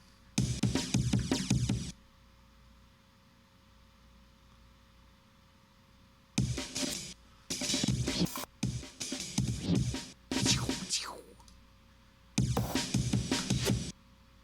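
Bursts of chopped, noisy breakbeat from an Ableton sampler chain with a wacky pitch envelope, sliding and warbling through several short sections separated by quiet gaps, fairly faint overall.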